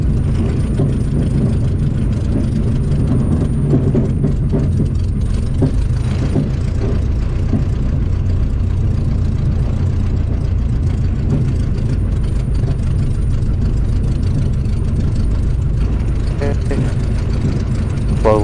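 A small airplane taxis along an airport taxiway, its engine giving a loud, steady low drone and rumble throughout, with a faint high whine above it and no talking.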